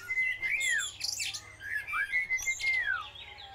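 Rescued parrots give loud, close whistling chirps and sharp squawks in quick bursts, overlapping calls rising and falling with short pauses between them.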